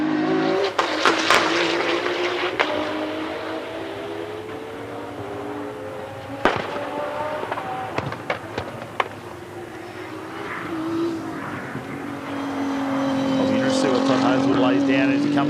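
A race car accelerates hard around a time attack circuit during a World Time Attack Challenge event. Its engine note climbs in rising sweeps, with occasional sharp bangs, beneath continuous race commentary.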